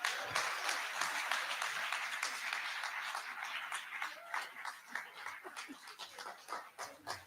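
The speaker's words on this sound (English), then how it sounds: "Please, a bigger round of applause there." Audience applause at a documentary premiere following a keynote speech, broad clapping that thins into scattered, uneven claps toward the end, moderately distant.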